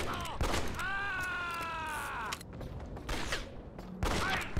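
Gunfire in the Red Dead Revolver video game on Xbox: a dense, loud burst of several sharp shots, then a steady tonal drone and more scattered shots and clatter.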